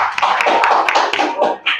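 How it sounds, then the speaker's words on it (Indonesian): An audience at a classroom teaching-practice session claps for a student group in a brief, dense burst of close hand claps that thins out near the end, with a voice faintly mixed in. "Mari kita beri tepuk tangan untuk kelompok 2."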